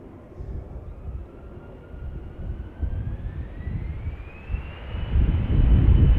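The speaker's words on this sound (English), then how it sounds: "I think I do see the 777 now approaching in the distance" A Boeing 777 airliner approaches Amsterdam Schiphol Airport, its engine roar building from a distant rumble into a louder, steadily rising drone with a thin whine that climbs in pitch as it nears.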